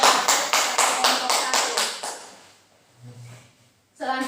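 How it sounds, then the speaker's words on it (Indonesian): A classroom gives a short burst of clapping for a student group after its presentation, about two seconds of fairly loud rhythmic claps that fade into near silence before a voice begins. "Mari kita berikan tepuk kepada kelompok"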